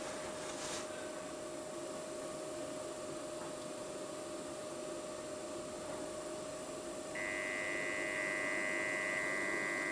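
A diesel heater running off a power bank's cigarette-lighter socket gives a steady, even hum with a constant whir throughout, and a higher tonal whine joins near the end, with no talking.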